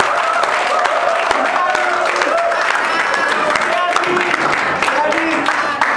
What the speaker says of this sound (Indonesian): beri tepuk tangan terlebih dahulu untuk para kandidat dan para panelis